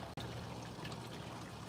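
A dog drinks water from a bowl carved out of a log. The lapping and trickling is soft and continuous, close by and quiet, with no voices.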